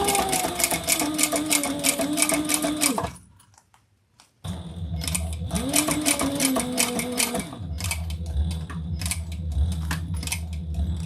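A sewing machine back-stitches fabric in rapid, rhythmic mechanical bursts, stopping briefly for a near-silent pause before whirring on again in close, steady runs.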